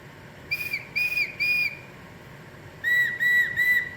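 Two sets of three sharp blasts from a wooden eagle whistle, the second set slightly lower in pitch, close and clear with a pause between.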